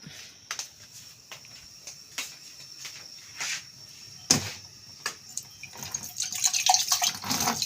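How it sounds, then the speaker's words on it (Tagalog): A thin, weak trickle of tap water with irregular drips and splashes, faint and close, with no one talking. "mahina na naman ang tubig dito sa amin"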